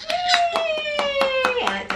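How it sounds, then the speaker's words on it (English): Sharp, regular hand claps, roughly a beat every quarter second, close and crisp, with a voice sustaining a tone over them. "And it's a clap, share praise."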